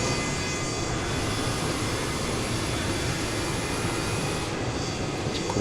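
Engine number 2 of a Boeing 727 in Microsoft Flight Simulator spooling up, a loud steady jet roar with a thin high whine held throughout, no talk.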